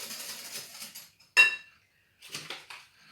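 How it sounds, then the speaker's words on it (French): Sugar stirred in a mixing bowl while making a yogurt cake: soft scraping and clinking of a utensil against the bowl in two short bursts, with a sharper knock between them, close and fairly quiet. "je remue"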